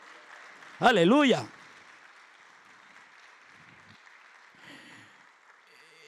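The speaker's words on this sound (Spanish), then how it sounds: "Dele un aplauso a Cristo." A church congregation applauds during a Spanish-language sermon, a soft, steady patter of clapping that runs under and after a loud shouted exclamation from a man.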